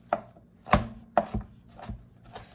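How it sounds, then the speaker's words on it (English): A knife chops fresh rosemary on a cutting board in a home kitchen, giving about six sharp, uneven thuds close by with short pauses between them and no talking. "I'm gonna go ahead and start chopping this rosemary"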